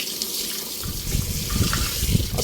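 Tap water pours over a stove burner cap in a sink, rinsing off soap after scrubbing: a close, continuous splashing gush with some brief spattering bursts and no talking.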